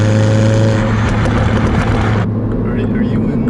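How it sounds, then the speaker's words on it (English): Exhaust of a 2014 Mini Cooper S held in fourth gear, a loud steady drone filling the cabin that drops off sharply midway as the throttle lifts, with voices talking over it. "You still hear that exhaust though"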